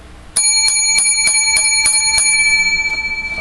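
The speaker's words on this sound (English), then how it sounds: "Seven lucky bells for this week's show." A small bell is rung in a rapid series of about eight bright, ringing dings, loud and close, with the tone lingering after the last strike.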